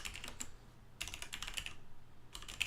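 Quiet typing on a computer keyboard, sluggish input on a Mac: three short bursts of rapid key clicks separated by pauses, close and soft, with no voices.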